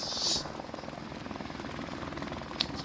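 Helicopter in a military video game: a steady rotor and engine drone holds throughout at moderate level, with a brief bright burst near the start and a short sharp click late on.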